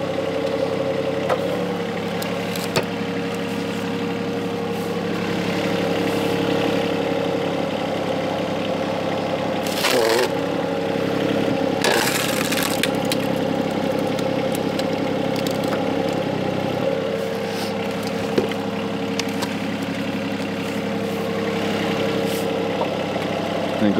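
A steady engine runs on an excavator-powered wood splitter working through red oak, a continuous mid-pitched drone with a couple of brief louder surges partway through.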